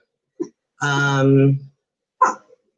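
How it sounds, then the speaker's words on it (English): Dogs in a house sound off at low volume: a short bark, a longer drawn-out whining cry, then another brief bark, with quiet pauses between. "The dogs bark at everything."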